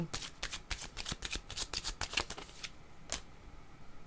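Tarot cards being shuffled by hand, a close series of quick riffling flicks and taps in uneven bursts, then a single final snap after a short pause, with no talk.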